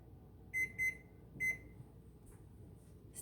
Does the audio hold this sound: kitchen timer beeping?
yes